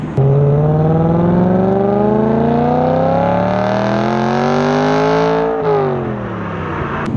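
A stock BMW E92 M3 V8 engine revs up in one long smooth climb, loud and close, then drops back sharply near the end and settles to a lower idle, with no talking.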